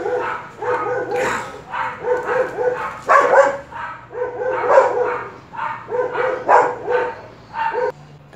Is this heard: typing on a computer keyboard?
no